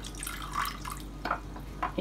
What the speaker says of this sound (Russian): И теперь мы добавляем обычную воду